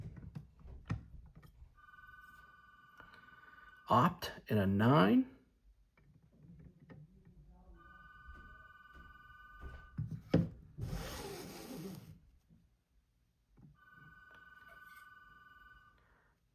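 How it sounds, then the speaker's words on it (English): A telephone rings in a room where trading cards are being sorted, several bursts of a repeating electronic ring spread through the clip with gaps between them, while someone talks and paper or cards rustle in between. "Oh, there goes the phone."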